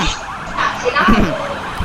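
A police car siren wails in the video game Sleeping Dogs, its rising and falling tone loud and fairly close across the whole stretch, with a faint voice briefly underneath.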